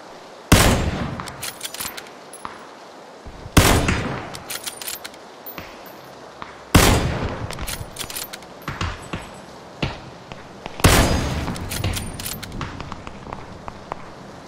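Pistol fire in the battle game PUBG: four loud, sharp shots spaced roughly three seconds apart, each trailed by a decaying crackle and faint clicking and footstep-like rustle between them.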